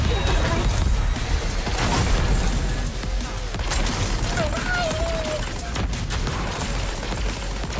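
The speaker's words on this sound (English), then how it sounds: "And now there's mortars everywhere." Mortar fire and battle noise from a video game make a dense, constant roar of blasts and crashes, with distant booms layered throughout and no clear gaps.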